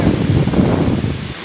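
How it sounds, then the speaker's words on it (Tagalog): Strong gusting wind from typhoon Agaton buffets the microphone in a low, continuous roar with rustling, loud and unbroken for the short stretch. "Lakas ng hangin."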